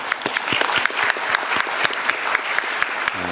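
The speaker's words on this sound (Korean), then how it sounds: "제가 박수 한번 드리고 싶습니다." An audience at a Korean public event claps in sustained, dense applause, with sharp individual claps standing out, fairly loud and without talk over it.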